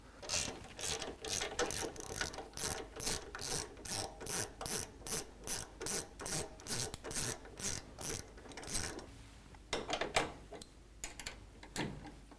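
A hand ratchet clicks in steady rhythmic bursts while backing out T40 Torx bolts from a motorcycle dash, close and clear with no talking, fading to a few scattered clicks near the end.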